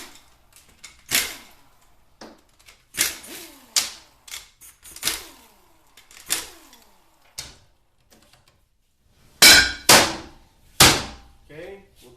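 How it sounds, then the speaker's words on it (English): Extension housing being removed from a 4L60E automatic transmission on the bench, a series of sharp metallic clanks and knocks spaced irregularly, close and loud, with brief gaps of near silence. "Now let's remove the extension housing."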